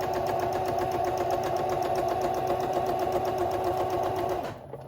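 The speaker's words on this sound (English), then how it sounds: "I've got the zipper foot on here. I've got a longer stitch, and I'm just running along, feeding that through" A sewing machine fitted with a zipper foot runs a long stitch continuously, a steady rapid mechanical whir with rhythmic ticking, close and even, stopping abruptly near the end.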